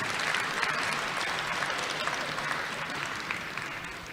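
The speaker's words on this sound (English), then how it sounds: "Let's give her a round of applause for being in attendance today" A crowd applauds an honoree at a Navajo Technical University spring commencement, producing a thick, continuous clapping that is loud at first and eases slightly toward the end.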